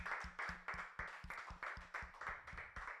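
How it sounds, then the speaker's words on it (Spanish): Faint rhythmic clapping from a church congregation, sharp claps landing in a regular beat, soft and somewhat distant, with no speech over it. "Vamos a darle aplauso, amén"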